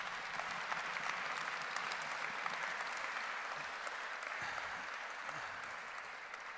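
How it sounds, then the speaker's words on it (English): Sustained audience applause in a conference hall at the opening speeches, dense and even clapping heard alone from start to finish, tapering slightly toward the end. "I would like to give them a big round of applause"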